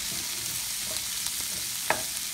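Cut zucchini and fresh vegetables sizzle steadily in a hot sauté pan while a utensil stirs through them, with light scraping and an occasional sharp clack against the pan, close and without talk.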